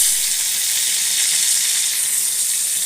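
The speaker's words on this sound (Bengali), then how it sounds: "পটলটা দেখো, নুন ছড়িয়ে আমি ভালো করে ভেজে নিচ্ছি।" Pointed gourd and potato fry in oil in a wok, giving a steady, close hiss of sizzling that holds evenly throughout with no voices.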